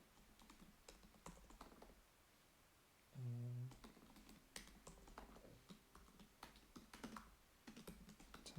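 Quiet, close clicking of typing on a computer keyboard, irregular bursts of keystrokes with a brief tonal beep partway through.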